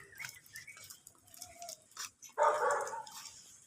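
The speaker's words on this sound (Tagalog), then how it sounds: "Ang cute ng aso, naka-stroller pa." A small dog riding in a stroller gives one short, sharp bark at close range, following faint quiet street background.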